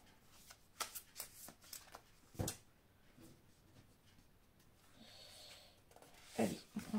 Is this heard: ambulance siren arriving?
no